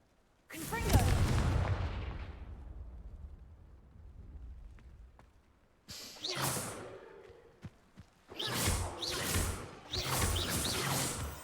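Confringo fire spell blasts from the video game Hogwarts Legacy: a loud booming burst that rings out and decays, followed by several sharper crackling impacts and whooshes in quick succession, close and forceful.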